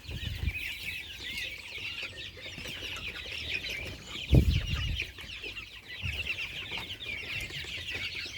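Chickens peck at a homemade grain mix with added compound feed, clucking and chirping steadily throughout at close range, with a few louder bumps and flutters.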